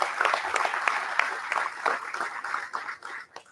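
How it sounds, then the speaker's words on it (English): A crowd at a press event applauds steadily, many hands clapping in a dense, continuous patter that tapers off toward the end. "Big round of applause for our council members."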